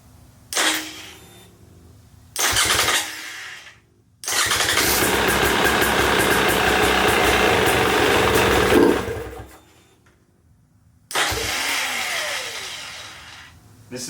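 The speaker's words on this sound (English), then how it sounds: "I just want to start up the bike at this point to see if it works or not." A KTM 300XC two-stroke dirt bike is started with short cranking bursts, then catches and idles loudly and steadily for several seconds before cutting out, followed by another start attempt.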